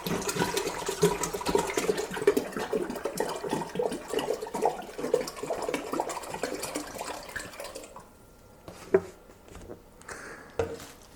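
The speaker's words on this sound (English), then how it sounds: "The remainder we'll go ahead and put in the pot." Water poured from a container into a cooking pot for a one-gallon fruit cocktail wine batch, a steady splashing stream that runs for about eight seconds and then stops, leaving quiet with a few drips.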